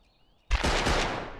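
A sudden, loud gunshot hit in the survival game Rust, bursting in after near-silence and trailing into a dense, sustained rattle of rapid fire that fades slightly at the end.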